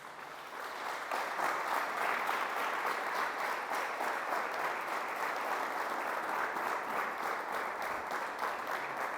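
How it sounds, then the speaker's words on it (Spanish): A church congregation applauds steadily, with dense sustained clapping that rises in the first second and holds moderately loud throughout, no voices standing out. "Den un fuerte aplauso al Señor."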